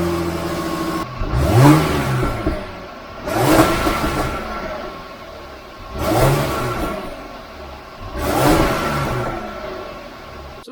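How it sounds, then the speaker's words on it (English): Car engine with a supercharger and stock air filter revved four times in steady succession, each blip rising and falling back to idle, close and fairly loud with no talking. "I'll go in the car and we'll do a little bit of revving and see what it looks like before we actually change it over to the induction kit"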